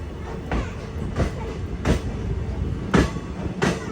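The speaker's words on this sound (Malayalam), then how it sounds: "ട്രെയിൻ ഇതാ സുബ്രഹ്മണ്യ റോഡ് റെയിൽവേ സ്റ്റേഷനിൽ എത്തിയിരിക്കുകയാണ്" A special express train from Vijayapura to Mangaluru rolls into Subrahmanya Road station in Karnataka, with a steady rumble and several sharp rhythmic clacks of wheels over rail joints, heard from on board without speech.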